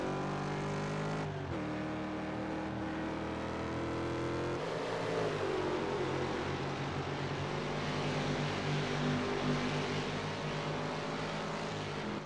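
Mustang and GTI race cars lap Summit Point in a sim racing game, their engine tones layered in a continuous, steady drone with shifting pitches as the cars rev and accelerate.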